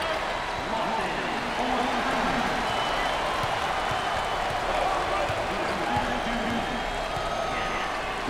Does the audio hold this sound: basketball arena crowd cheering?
yes